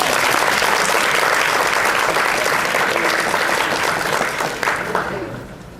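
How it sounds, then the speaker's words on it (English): A lecture audience gives the speaker another round of applause, dense and loud from the start, holding steady for several seconds before tapering off near the end. "Let's give our speaker another round of applause."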